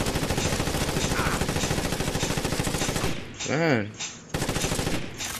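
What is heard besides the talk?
gunfire shooting at an enemy in a video game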